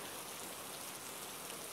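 Heavy rain pours down steadily in a dense, unbroken hiss of drops hitting the ground, with no voices.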